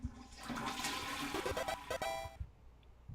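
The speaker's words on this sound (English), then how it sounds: "it's a toilet. Flush it." A toilet flushes in the Deltarune video game, a loud rushing gurgle of water that swells, churns for about two seconds and then cuts off abruptly into quiet.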